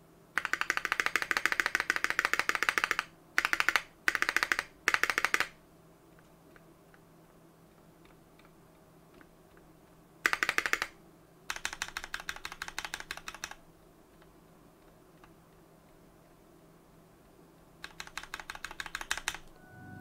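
Keyboard keys on plate-mount stabilizers modded with tape clack in fast bursts of typing separated by quiet gaps, crisp and close with no rattle evident.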